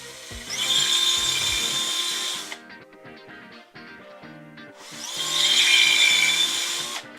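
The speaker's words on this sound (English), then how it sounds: "you'll just want to use an 1/8-inch drill bit" A power drill with a 1/8-inch bit pre-drills wood for a cornhole board in two loud, steady whining bursts, separated by a short pause.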